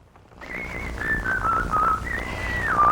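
A person whistles a wandering, tuneless melody of sustained and sliding notes, fairly close, over a faint low background hum.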